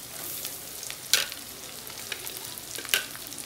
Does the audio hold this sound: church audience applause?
no